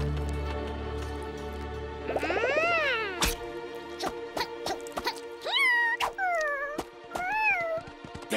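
Cartoon hounds give several rising and falling howls, one long wail followed by shorter wavering cries, mixed with sharp clicks and thuds from the animated scene.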